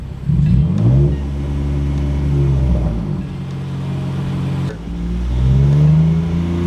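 A used BMW's engine runs close by, held at about 2,000 RPM, a low droning hum that dips briefly and then climbs again.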